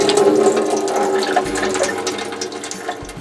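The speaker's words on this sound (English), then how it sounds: "Give them a good shake to rinse them off. And again, dump the water out." Water dumped out of a sprouting jar through its lid after rinsing radish sprouts, a close, steady splashing pour that tapers off over a few seconds with no talking.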